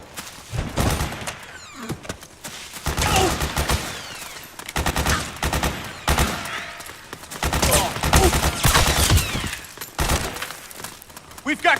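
Rapid bursts of automatic gunfire and sharp shots in the video game Metal Gear Solid 4, loud and sustained in repeated volleys with impact clatter, under intermittent voices.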